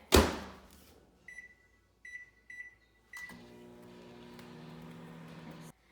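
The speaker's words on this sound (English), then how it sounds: "pop this in the microwave for 1 minute" A loud door clunk, a few short beeps, then the steady low hum of a microwave oven cooking a mug muffin for a couple of seconds before stopping.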